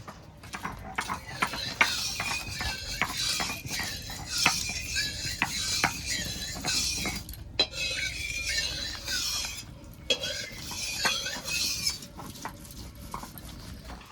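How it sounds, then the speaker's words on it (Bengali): Fresh ginger is ground into paste on a stone, giving rhythmic scraping and knocking strokes, irregular but steady, close by, with a few sharper clacks and light kitchen noise in the background. "আমি আদাটা বেটে নেব।"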